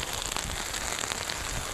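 Heavy rain from a typhoon in Masbate Province pours down as a dense, steady hiss of drops striking surfaces, loud and continuous with no break.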